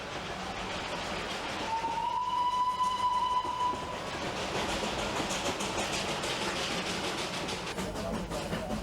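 A Darjeeling Himalayan Railway train whistle sounds as one long, steady tone lasting about two seconds, over the constant rumble and clatter of the moving train.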